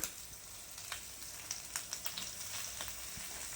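Shredded cabbage fries in oil with ginger, a soft steady sizzle broken by light crackles and the scrape of stirring, faint and close with no talking.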